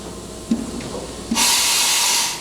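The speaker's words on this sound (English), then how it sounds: "That's a tool change, or a simulated tool change." Tool change on a Hyundai F500 vertical machining center with chip conveyor, auger and coolant through spindle: a couple of brief mechanical clunks, then a sudden loud, sustained pneumatic hiss of air that fades out near the end.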